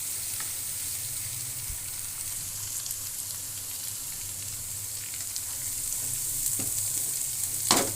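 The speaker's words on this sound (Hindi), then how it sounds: "थोड़ी देर ये फ्राई करेंगे हम लहसुन को।" Garlic frying in a pan with cinnamon and black cardamom for a Pakistani keema dish. The oil gives a continuous close sizzle with occasional pops and crackles, and it swells slightly toward the end.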